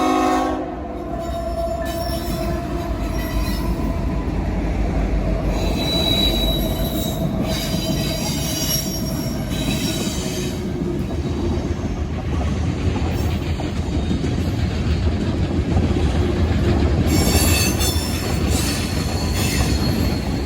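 A westbound train rolls past on the track in Marion, Ohio, a continuous loud rumble of wagons with squealing wheels and horn-like tones throughout the whole span.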